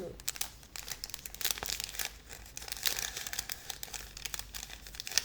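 Close crinkling of small plastic packets with bursts of tearing, scattered and irregular, with a voice speaking at times.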